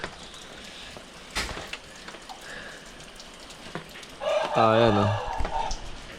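Rain falls steadily on a mountain road during a trip through northern Philippines, a soft continuous hiss under brief speech and a bird-like call.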